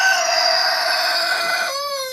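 Roosters crow loudly and close by, one long drawn-out call sliding down in pitch before breaking into a shorter rising crow, with clucking mixed in.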